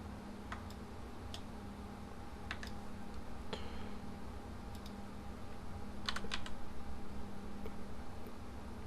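A value tapped out on a computer keyboard: a handful of sharp, scattered key clicks, some in quick bursts, fairly close but quiet against a faint steady hum, with no talking.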